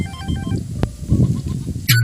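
A mobile phone ringtone plays a repeated, tinkling melodic phrase over a low background rumble, ending with a brief, brighter burst of tones.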